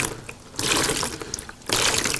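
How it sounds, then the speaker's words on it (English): Tap water pours and splashes over hands during ritual hand washing before a meal, gushing in two loud bursts with a quieter trickle between them, close by and with no voices. "making sure that the water reaches the end of my hand"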